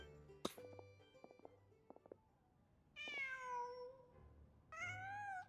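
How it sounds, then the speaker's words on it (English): Two drawn-out meows from a cat in a video game, each rising then falling in pitch, alone over soft ambient game music and scattered tones, fairly clear and close. "Just a cat."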